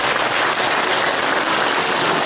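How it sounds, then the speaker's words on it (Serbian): Sustained applause from an audience clapping for the actors at a New Year's show in Rudnik, dense and even throughout with no talk over it. "Hoćemo li da pozdravimo ove naše glumce jednim velikim aplauzom?"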